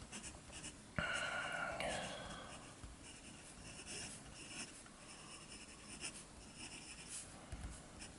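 A fine gold-nib pen scratches softly across paper in short, faint strokes. One louder, brief rustle of handling is heard near the start.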